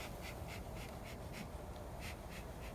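Honeybees from a package swarm around a new hive box. Their buzzing drones steadily and faintly throughout, with a soft recurring pulse of wingbeats and no talk.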